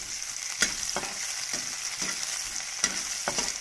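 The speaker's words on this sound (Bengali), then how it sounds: "কড়াই গরম হয়ে গেছে এবার আস্তে আস্তে রসুনগুলো আমরা দিয়ে দিই" Garlic frying in a hot wok, a loud continuous sizzle punctuated by regular scraping strokes of a spatula every second or so, heard up close with no talking.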